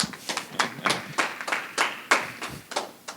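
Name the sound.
audience clapping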